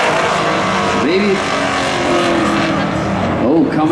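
A Camaro with a full exhaust system roars at a spectator drag racing championship, a loud, sustained engine drone with rising and falling pitch as cars run the strip, under the chatter of commentators talking throughout.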